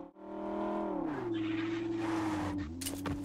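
Car drifting in the mobile battle-royale game PUBG Mobile: a loud, steady engine drone with a pitch that drops and then holds, with tire noise and a few sharp bursts near the end, and no talk.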